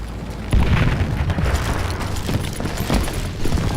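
Dynamite blasts and gunfire in the Western shooter Call of Juarez Gunslinger make a loud, rumbling boom that opens and then a dense, continuous roar of explosions and crackling shots.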